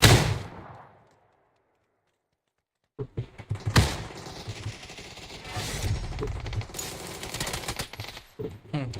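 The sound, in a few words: gunfire from an SKS rifle in a shooter video game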